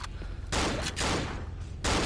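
Gunfire bursts in the Cry of Fear survival horror game, three loud broadband volleys of shots separated by brief pauses, with no voices over them.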